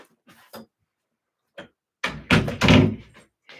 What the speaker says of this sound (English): Shall I close the door?